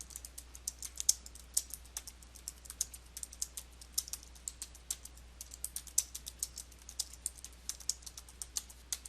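Fingers type on a computer keyboard in a steady run of quick, quiet clicks and taps. The keystrokes come close to the microphone, with no other sound around them.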